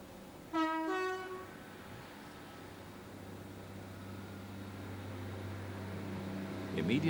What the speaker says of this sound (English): The Class 158 Express is on a Manchester Piccadilly to Cardiff Central service.